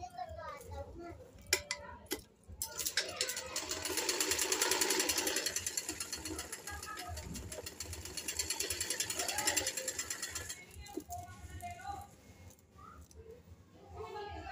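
Sewing machine stitching the side seam of a suit, a steady close mechanical run that rises and falls over several seconds, with brief clatter and a voice speaking around it.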